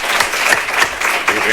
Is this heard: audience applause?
yes